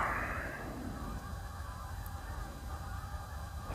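Ducks calling far off outdoors, a faint burst of honking at the start fading into a steady low background wash.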